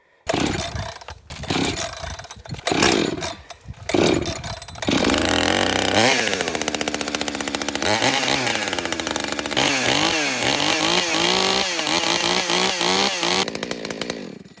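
A chainsaw cuts firewood to a 12-inch length. The saw stutters through a few short revs and then settles into a loud, sustained cut with its pitch wavering, and it winds down at the end.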